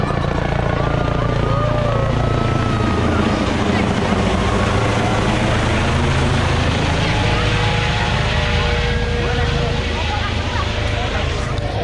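Loud, close helicopter noise with a constant rotor drone and engine whine filling the whole stretch, voices talking underneath.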